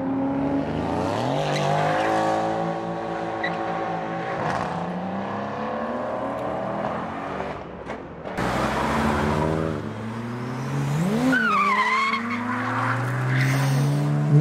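Cars drift on a public street, engines revving hard while tires squeal and skid in long screeching bursts, with abrupt cuts between passes and a loud, close mix with no talking.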